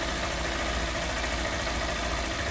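A Honda CG160 Cargo motorcycle engine, just repaired of a knocking noise, idles smoothly and steadily close by, a constant even rumble with no other sounds.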